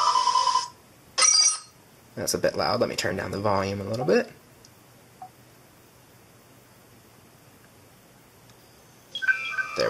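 Star Trek computer app sound effects play on a Samsung Galaxy S4 Android phone, bright electronic bleeps and chirps in short bursts, with a person talking in between.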